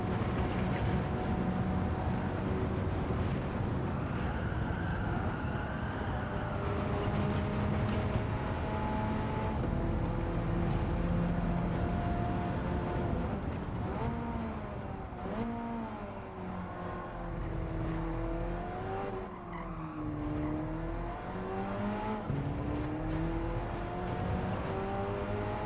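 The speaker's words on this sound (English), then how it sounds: "Might need to rev this out a lot more." A car engine revs hard during a time-trial run, a steady loud roar whose pitch climbs and dips in repeated sweeps toward the end, with no talking.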